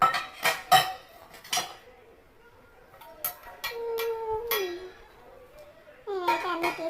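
A metal ladle and plate are set out in a kitchen while making onion pakoda, giving a handful of sharp clinks and clatters spaced across several seconds, with faint voices in between.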